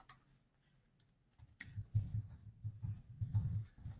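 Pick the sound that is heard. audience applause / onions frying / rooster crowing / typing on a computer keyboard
typing on a computer keyboard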